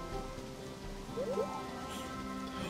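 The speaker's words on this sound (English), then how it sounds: "I guess he likes it when it rains." Rain falls in the Harvest Moon: Animal Parade video game, a soft steady hiss of game rainfall with faint tonal music notes and a brief chirpy sound over it, no one talking.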